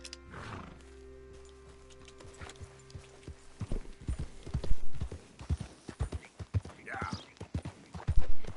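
Hooves of a Morgan horse clop irregularly in Red Dead Redemption 2, faint at first and then growing louder and closer in uneven bursts, with a brief whinny-like cry partway through and some ambient game sound behind.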